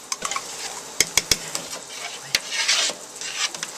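A spoon stirs three cans of tomato paste in a pot for homemade ketchup, giving close, irregular scraping and clinking strokes with a few sharp knocks against the pot and a faint sizzling hiss beneath.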